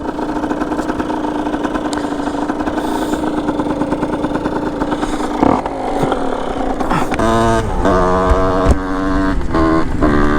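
A Yamaha DT 70 kitted motorcycle with a cracked exhaust pipe idles loudly and rasps through repeated revs, the blats growing harsher and more staccato toward the end, close up and continuous.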